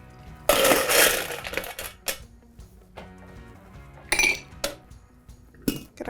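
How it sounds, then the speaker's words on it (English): Ice is thrown into a metal cocktail shaker for a pear and vanilla gin fizz, giving a loud clattering rush of cubes followed by several sharper clinks and rattles spaced apart, close up with no talking. "Throw some ice on it in there."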